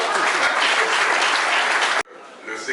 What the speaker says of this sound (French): mais applaudissez-le